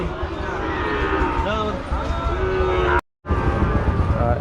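Calves at a busy Rajshahi livestock market give repeated moos over a constant crowd din, near and loud, with a brief dropout near the end.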